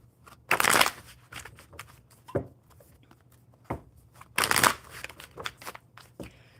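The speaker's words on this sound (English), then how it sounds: "Let me shuffle these up super good now." Playing cards are shuffled by hand in two bursts of crisp riffling flutter, separated by lighter taps and shuffling of the deck, close and fairly quiet.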